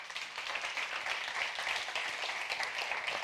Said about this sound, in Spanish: con un fortísimo aplauso